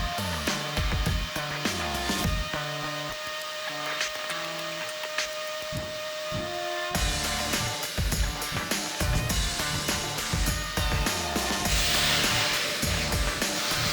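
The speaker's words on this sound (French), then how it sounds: "je viens juste de couper l'aspirateur" A Bosch GOF 1250 LCE router cuts a groove while a workshop vacuum runs, making a loud, steady, whining roar that continues throughout with a brief shift in tone midway.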